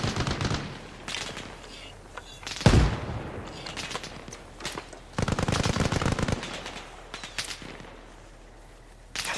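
Machine gun fire in the military shooter Arma Reforger, loud close bursts of rapid automatic shots repeating across the scene, with one heavy blast near the start and quieter gaps between volleys.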